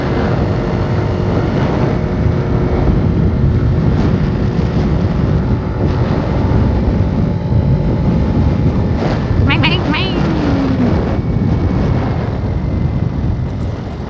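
Riding an AR50 scooter on the road, loud buffeting wind roar over a steady engine drone, continuous and close to the microphone, with a person talking over it.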